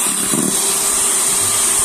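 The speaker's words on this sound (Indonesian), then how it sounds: "Kemudian ini kita mixer lagi sampai mengembang, putih, kental dan berjejak ya." An electric mixer whirs steadily and close while beating red velvet cake batter until it turns thick, pale and fluffy, with a continuous motor drone and a brief scraping rattle near the start.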